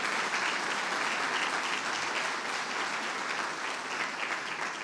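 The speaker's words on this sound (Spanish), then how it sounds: "amén, dale ese aplauso al Señor." A church congregation applauds in one steady, dense wave of clapping that fills the whole stretch, with no break or swell.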